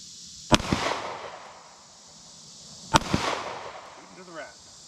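Two sharp, loud handgun shots ring out at an outdoor shooting range, spaced a couple of seconds apart, each with a short echoing tail, followed by a faint voice.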